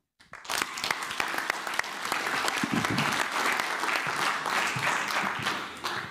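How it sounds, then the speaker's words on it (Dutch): Sustained audience applause at a healthcare innovation congress, dense and fairly close, starting abruptly and continuing steadily without speech. "APPLAUS."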